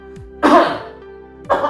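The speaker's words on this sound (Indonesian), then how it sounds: "Kok Bapak batuknya seperti itu?" A man coughs twice nearby, a harsh throaty burst followed by a shorter second cough after a pause, loud and clear over a faint steady hum.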